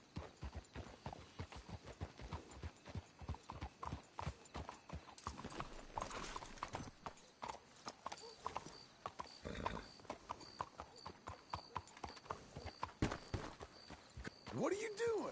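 Steady clip-clopping hooves of horses walking in the video game Red Dead Redemption 2, close and continuous, with a voice speaking briefly partway through.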